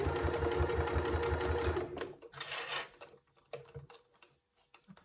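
A sewing machine stitches around the edge of a Sila Duo zip pouch in a loud, fast mechanical whir for about two seconds, then stops, leaving scattered handling clicks and a short burst of fabric rustle.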